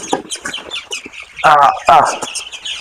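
Chickens and chicks cluck and squawk close by in short bursts, with a couple of louder, sharper calls midway.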